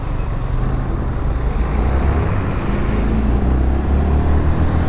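Honda CB250F Twister motorcycle riding along a road, a steady engine drone and wind rush heard from on board, constant and fairly loud throughout.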